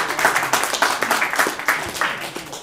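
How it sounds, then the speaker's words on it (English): Short burst of applause after a startup pitch event, a room of people clapping with quick, uneven hand claps that stay fairly close and loud throughout. "Everybody, round of applause for Nancy."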